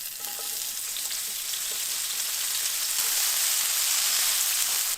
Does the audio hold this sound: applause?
no